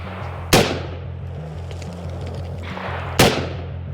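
Two loud, sharp gunshots ring out about three seconds apart at an outdoor shooting range, each followed by a brief decay over a steady low hum.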